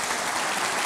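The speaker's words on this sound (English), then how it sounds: "Will you please give a big round of applause" A brief, loud burst of dense applause from the audience at NEAF 2023 greeting astronaut Eileen Collins, continuous clapping filling the whole moment.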